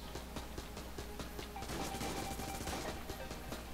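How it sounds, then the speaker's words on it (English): A fast-firing gun in Enter the Gungeon shoots in a rapid, steady stream of quick shots under game music, fairly quiet in the mix. "This gun shoots really fast."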